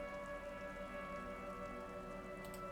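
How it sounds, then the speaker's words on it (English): Rain pours steadily over a city in the video game Disco Elysium, a soft continuous hiss laid over a low, sustained tonal drone, unchanging throughout with a faint brighter flicker near the end. "A silvery curtain of rain over the houses"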